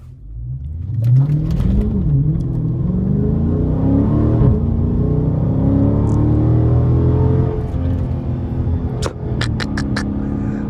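An SRT 392 V8 engine in its loud exhaust mode revs up and rumbles loudly for several seconds, climbing and settling in pitch, close by, with some clattering near the end.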